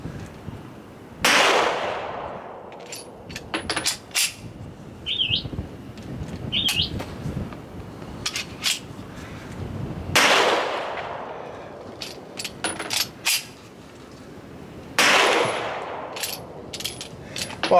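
A Smith & Wesson M&P 2.0 Metal pistol firing hard-primer ammunition outdoors, three loud sharp shots spaced several seconds apart, each with a decaying echo, separated by clicks and handling noises and a couple of brief birdlike chirps.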